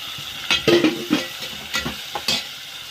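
Onions and tomatoes are stirred in a frying pan for a fish curry made with tamarind, with soft sizzling under several scraping strokes of a spoon against the pan, close and moderately loud.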